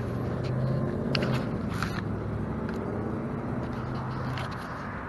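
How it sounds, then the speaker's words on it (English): A red truck pulling up outside a deserted, shuttered grocery store in Lake Station, Indiana, as a broad steady engine and tire rumble with gravelly crackle, fairly close, easing off slightly at the end. "I got somebody pulling up in the red truck."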